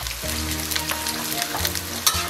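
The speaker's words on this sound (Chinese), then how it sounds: "下锅里边简单的煸炒" Pork intestines are stir-fried with ginger, garlic and scallion in hot oil, giving a loud, continuous close-up crackle and sizzle with occasional stirring noises.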